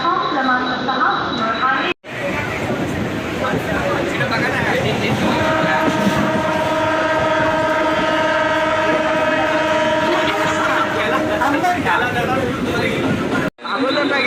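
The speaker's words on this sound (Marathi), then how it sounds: "ट्रेन सुट्टी आता आमची" A train pulls out on a group picnic trip, loud and close, with rumbling rail noise, a sustained horn blast in the middle and people chattering in the background.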